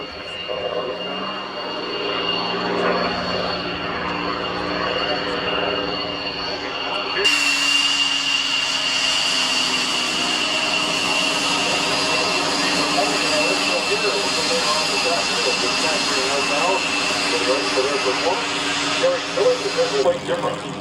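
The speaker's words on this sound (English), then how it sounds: "Airplane over inverted, and this time just holds it there as he flies down the show line" A Spitfire flying inverted down the show line at an air show, its engine a loud, sustained roar that swells sharply partway through and holds steady as it passes, with a commentator talking throughout.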